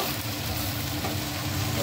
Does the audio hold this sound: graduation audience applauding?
no